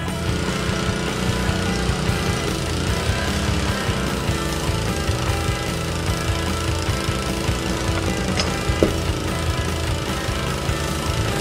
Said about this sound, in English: The 40-ton hydraulic ram pulls the cable through the pipe, replacing it with the new HDPE high-density polyethylene pipe.